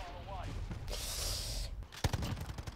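Distant long-range gunfire in the video game Call of Duty Modern Warfare, a few sharp cracks near the end after a stretch of faint game sounds, with a voice talking over it.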